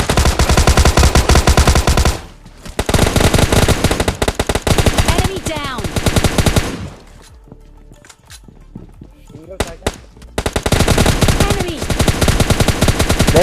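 Automatic and single gunfire from PUBG Mobile Lite gameplay, loud dense bursts broken by short pauses, with game effects and a few isolated shots in the gaps.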